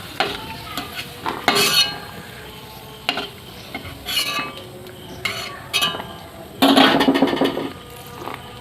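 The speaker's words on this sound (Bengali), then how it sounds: "কিশমিশটা অল্প করে নেড়ে নেব।" Raisins sizzle in hot oil in a frying pan while a spoon stirs them, producing loud, close scraping and clinking strokes in uneven bursts over a steady frying hiss; no one speaks.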